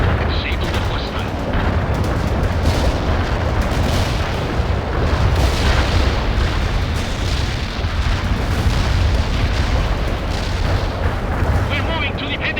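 Artillery strike explosions in World in Conflict, a dense, continuous barrage of booming blasts and gunfire rumbling loudly throughout, with battlefield radio chatter mixed underneath.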